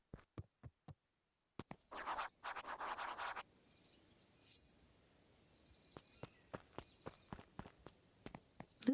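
Footsteps of a group approaching in the video game Beacon Pines: a series of sharp, evenly spaced taps and scuffs, first a few isolated steps, then a brief scraping burst, then a quicker run of steps, fairly close and without talk.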